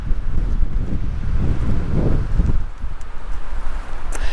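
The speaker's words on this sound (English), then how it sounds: "The wind is going crazy right now." Strong gusty wind buffets the microphone high on Mount Ord, a constant loud low roar that surges and eases over a few seconds, with no voices.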